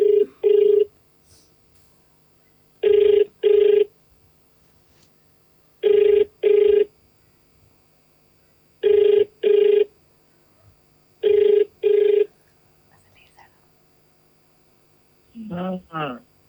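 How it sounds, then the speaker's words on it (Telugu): A phone ringback tone sounds in five evenly spaced double pulses while a call is placed. It is clear and loud against a quiet background, and a voice answers at the end. "జయకృష్ణకి కాల్ చేయాలండి."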